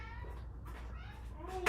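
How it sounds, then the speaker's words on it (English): Five-week-old kittens meow indoors, several short thin mews scattered through the moment with a louder one at the end, fairly close and over a low background hum. "We have kittens escaping in the background."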